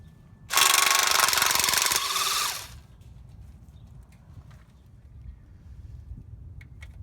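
A loud pneumatic ratchet or impact tool runs in one sustained burst of about two seconds while removing oil pan bolts on a Jeep 4.0 engine, then cuts out, leaving faint workshop rumble and scattered small clicks.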